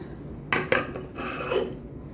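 Fish laid into a pan of leftover mixed vegetables seasoned with a little soy sauce, giving two quick clattering impacts followed by a soft sizzling rasp, close and fairly quiet.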